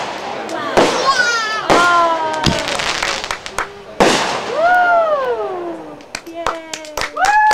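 Fireworks go off in a series of sharp, loud bangs, several followed by whistling, crackling trails, with people talking and reacting close by.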